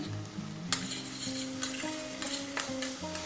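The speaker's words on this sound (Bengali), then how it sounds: "এটাও একটু কষে নেব ভালো করে" Spices and green chillies sizzle and crackle in hot oil as a spoon stirs and scrapes the pan, with steady frying hiss throughout.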